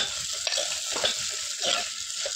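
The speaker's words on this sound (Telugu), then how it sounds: "ఉసిరికాయ తురుము వేసుకోవాలి." Grated Indian gooseberry (amla) goes into a hot pan for a rasam, giving a loud, continuous sizzle with repeated stirring scrapes layered on top, close-up and with no voices.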